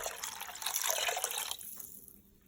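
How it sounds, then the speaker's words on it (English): Water pours into a pot of meatless chicken bones for broth, a bright splashing rush that builds for about a second and a half, then cuts off to near silence. "what we're going to do right now is we are going to add a little bit more water."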